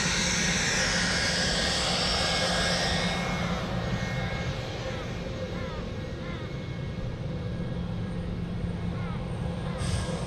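A Boeing 717 jet airliner taxis at Sydney Airport, its engine roar a steady, loud, continuous rumble and whine throughout, with a voice talking over it.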